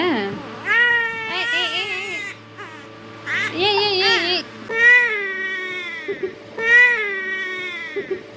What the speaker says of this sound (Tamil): பாப்பா அழுதுகிட்டே இருந்தாங்க.